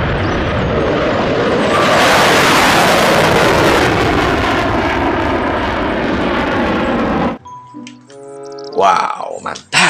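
A toy fighter jet gives a loud, sustained jet-engine roar for about eight seconds, then cuts off as a person starts talking.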